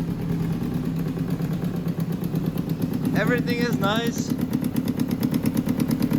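A 600cc engine fitted to a Power Wheels ride-on toy idles with a steady, rapid sputtering rumble up close, while someone speaks briefly over it.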